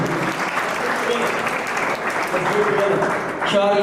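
An audience applauds loudly at a state-level award ceremony while trustees and guests are honoured, a dense, sustained roar of clapping from many hands with a voice briefly audible over it.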